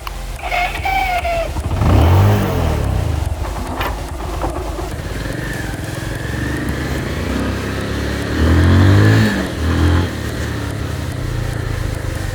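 Bajaj Pulsar 150 motorcycle running on Castrol Power 1 Cruise oil, riding along a road with the engine note rising and falling through two throttle surges over steady road noise.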